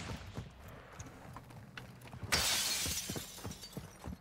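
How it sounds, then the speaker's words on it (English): Glass shatters in the Call of Duty DMZ video game, a sudden bright crash with a tinkling tail, heard at moderate distance over footsteps and game ambience. "Heard glass break?"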